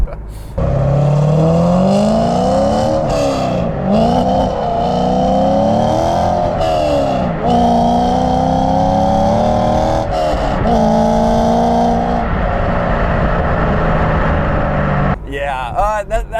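A Chevrolet C5 Corvette Z06 V8 accelerates hard on a track, its loud engine note rising through the revs with brief dips at gear shifts, climbing again several times before cutting off near the end.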